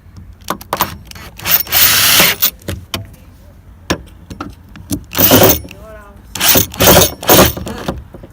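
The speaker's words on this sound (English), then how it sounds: "Set the drill to tighten clockwise." Several short bursts of a power drill whirring as it tightens Torx bolts on a Mk6 Ford Fiesta light fitting, each a second or so, with clicks and metallic rattles between them, close up.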